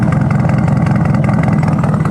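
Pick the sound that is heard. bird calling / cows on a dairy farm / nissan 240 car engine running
nissan 240 car engine running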